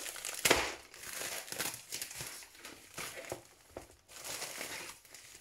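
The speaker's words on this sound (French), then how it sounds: "c'est bien emballé, il y a du papier bulle partout." Bubble wrap and packing material being unwrapped from a parcel, giving loose crinkling and crumpling bursts with a sharper crackle near the start, close up and fairly quiet, with short pauses between handfuls.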